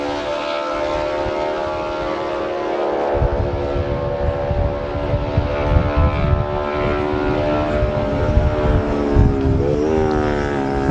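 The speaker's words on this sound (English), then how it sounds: "one arriving there is number 27, Alex Sinclair, newcomer, on his 350 Honda" A 350 Honda racing motorcycle arrives during a classic road race, its engine note droning loud and steady, then rising in pitch as it passes close by, with no speech.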